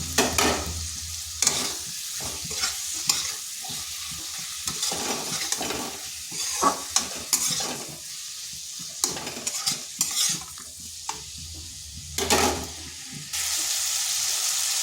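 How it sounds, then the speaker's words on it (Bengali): Tomato frying in a pan of spiced masala hisses steadily, with repeated stirring scrapes and spoon taps spread through the clip and no voices. "এরপর এখানে দিয়ে দিচ্ছি একটা মিডিয়াম সাইজের টমেটো"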